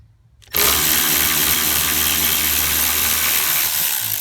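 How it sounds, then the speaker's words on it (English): A power tool spins up suddenly and runs loud and steady to remove 12 mm rear strut bolts on a 2006 Toyota Avalon with a long deep socket, a constant whir after a brief quiet start. "They're 12 millimeters. You're gonna have to use a long, deep socket."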